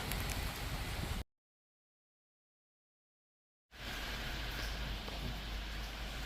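Steady rain falling outdoors, a broad, even hiss that cuts out completely for a couple of seconds in the middle and then resumes at the same level, with no speech.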